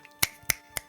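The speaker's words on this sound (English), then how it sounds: "The sound of one hand clapping is snapping." Three crisp finger snaps, evenly spaced about a quarter second apart, sharp and close with nothing else around them, made during a live speedrun of the Splatterhouse game at a charity marathon event.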